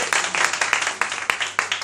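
A room of people claps together at a religious prayer vigil for senior priests, the sharp hand claps dense and uneven and fairly close, forming a short burst of applause with no talking over it.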